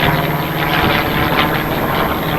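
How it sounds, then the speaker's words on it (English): Loud, steady roar of an airplane passing overhead outdoors near Arundel, a broad engine rumble with a faint pulsing quality, no talking. "Sorry about the plane noise."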